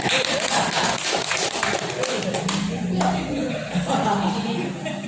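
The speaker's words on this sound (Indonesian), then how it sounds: "Tepuk tangan dulu ya" An audience at a Ramadan seminar for religious counselors and marriage officiants claps in a dense, steady burst lasting the whole stretch, with a voice faintly present underneath.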